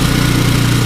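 A Ford engine runs at a steady idle on full choke, with a continuous low rumble and a constant mechanical drone close by and loud.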